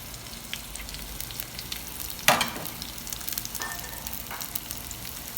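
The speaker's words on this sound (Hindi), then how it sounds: "प्याज हमारा फ्राई हो रहा है" A medium onion frying in two tablespoons of oil in a kadhai gives a steady soft sizzle, with a sharp crackle and a few light scraping stirs partway through.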